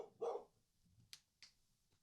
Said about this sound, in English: Bro, what are you barking at?